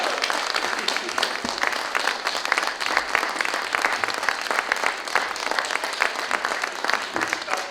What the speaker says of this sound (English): can we have a massive round of applause for our party leader, David Curtin,